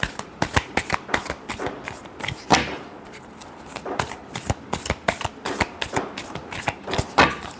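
Tarot cards being shuffled by hand, close and crisp, with rapid riffling bursts and slaps repeating in quick rhythm and one brief pause partway through.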